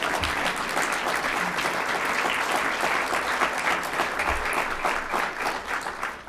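Audience applause at a conversation event with an ambassador, steady and dense clapping from a full room that holds for several seconds before thinning toward the end.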